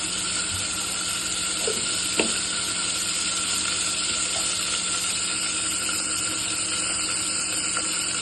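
Mustard seeds sizzle in hot oil in a pan, giving a steady, loud, close hiss with a few sharp pops scattered through it and no voices.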